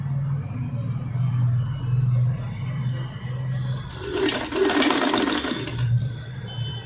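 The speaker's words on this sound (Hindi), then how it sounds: "उसी के ऊपर मुझे इसकी जो है वो स्टिचिंग लेनी है" A sewing machine stitches plunge blouse pieces with a fast, close whirr. A loud whooshing rush like flowing water swells over it midway, and a low steady hum runs underneath.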